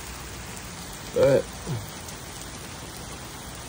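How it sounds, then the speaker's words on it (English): Steady rain falls in Fort Lauderdale, Florida, as a constant even hiss, with a brief voice speaking once over it. "it is raining"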